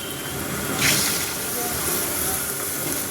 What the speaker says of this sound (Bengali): এবার কিন্তু আমি জল দিয়ে দেব